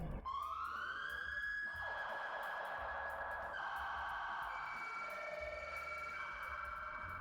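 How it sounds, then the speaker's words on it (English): A Federal Signal Pathfinder police siren on a vehicle cycles through several loud, close tones, a rising wail giving way to shifting pitches and a faster yelp, continuous throughout. "We have the Federal Signal Pathfinder unit in here, which gives you multiple options for the siren"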